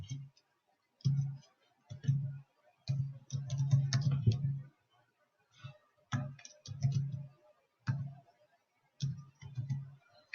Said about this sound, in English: Now let's type the following commands.